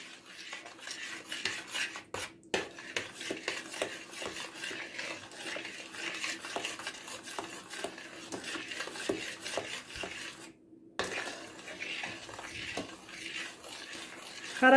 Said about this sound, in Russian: хорошенько перемешали